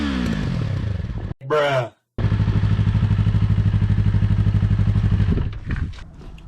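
A Yamaha R3 sport motorcycle with its stock exhaust runs at a steady, buzzy, throbbing pitch up close, briefly cut by a short sharp burst and a near-silent gap, then carries on before dropping off near the end.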